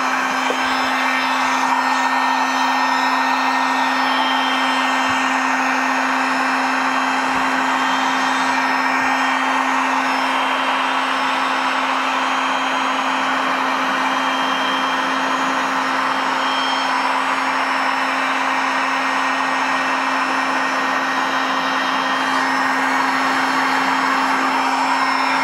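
A heat gun set to 600 degrees heating Peugeot 125 scooter engine parts blows a steady, loud, continuous whooshing hum with a fixed motor tone, unbroken for the whole stretch and close by.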